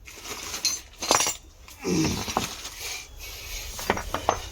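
Metal Mahindra tractor side chains being handled in a shop, with irregular clinks, rattles and jangling of chain links and hard knocks, close by and in bursts.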